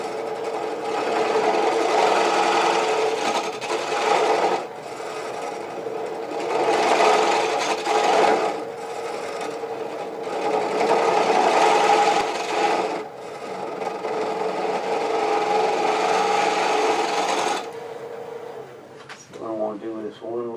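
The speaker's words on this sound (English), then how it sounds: "I'm going to see if I can't do some pull cuts and get most of the way done here" Wood lathe pull cuts with a detail spindle gouge, giving a steady loud rasping hiss in long sustained passes with brief pauses, ending in a short burst of talk.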